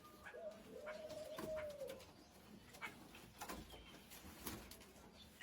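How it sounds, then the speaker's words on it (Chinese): A pair of pigeons coo softly inside a pig pen, low rolling calls rising and falling at a distance amid faint background rustle, no one speaking. "这一对鸽子天天在猪圈里面谈恋爱"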